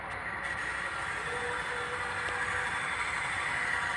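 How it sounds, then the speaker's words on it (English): A model Conrail coal train rolls along a scale layout, giving a steady, continuous mechanical whir and rumble at moderate level throughout, with no voices. "I know, it's the coal train again."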